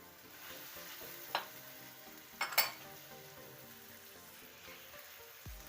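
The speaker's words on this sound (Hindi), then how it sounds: "अब इसमें हम मटन का कीमा ऐड करेंगे।" Mutton mince hits a hot pan and fries with a steady low sizzle, broken by a few brief scrapes and clatters of a spoon against the metal.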